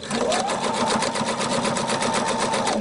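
A sewing machine stitching a lining with waistband tape runs steadily and close, a fast even rattling hum of needle strokes throughout, loud and alone without talk.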